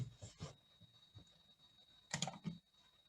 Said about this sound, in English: when I start typing my verb here